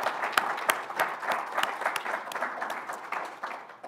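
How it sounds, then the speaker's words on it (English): An audience at a climate justice and sustainability hub event gives a brief round of applause, dense steady clapping from many hands filling the room at close range, with no voices heard. "So just a quick round of applause for their help in pulling this event off."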